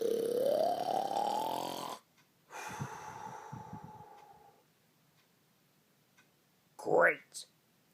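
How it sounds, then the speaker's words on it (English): Loud snoring from a sleeping animatronic character: a long rasping inhale, a rumbling exhale after a pause, then a short sharp snort near the end, alone with no talk. "His snoring sounds like a diesel engine."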